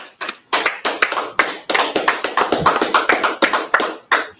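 A group in a class claps hands in loose bursts, sharp close slaps with short gaps, building into a quicker uneven rhythm before a final clap.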